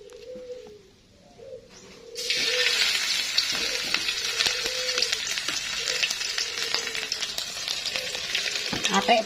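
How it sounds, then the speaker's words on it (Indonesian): Crab fritters (begedel yuyu) start frying in a pan, a steady loud sizzle that bursts in after a quiet start and continues to the end, with soft bird cooing in the background. "mulai kita goreng."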